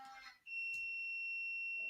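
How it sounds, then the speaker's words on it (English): An alarm gives a continuous high-pitched electronic tone, steady and piercing, and holds for well over a second. A brief voice comes just before it starts. "Oh, alarm going off."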